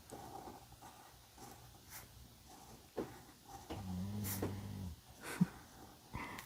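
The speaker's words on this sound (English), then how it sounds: "I love hearing my dog snore." Several sleeping dogs snore softly in a quiet room, with a slow run of low, rattling snort-like breaths rising mid-way, then one sharp snuffle and faint rustles.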